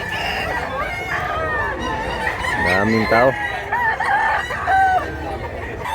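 Roosters crow loudly at a busy chicken market in Mantalungon, Cebu, one long crow rising clearly above steady clucking and crowd chatter, with people talking nearby.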